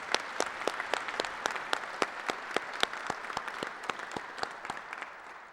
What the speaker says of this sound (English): how about you join me with a round of applause